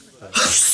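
A single sneeze bursts out sharply at close range, a short breathy intake followed by a loud hissing release, heard alone in a quiet indoor room.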